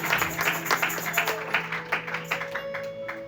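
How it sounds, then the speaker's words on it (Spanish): A church congregation claps at an evening service, a rhythmic run of distinct claps at a steady pace, moderately loud, with a sustained tone ringing behind them. "Dale fuerte ese aplauso, Jesús, esta noche."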